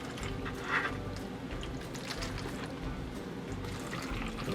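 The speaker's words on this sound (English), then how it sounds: "you pour some water on the coconut coir disc" Warm water pours steadily onto a dry coconut coir disc, a soft, continuous close-up trickle and splash with faint squishing as the fibre soaks, no voices.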